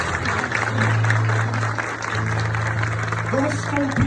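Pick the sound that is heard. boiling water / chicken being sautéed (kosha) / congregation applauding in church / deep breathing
congregation applauding in church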